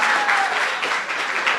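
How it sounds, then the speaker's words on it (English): An audience claps loudly to close a team's presentation at a project demo and judging session, a brief, dense burst of applause. "When time is up, I will start clapping."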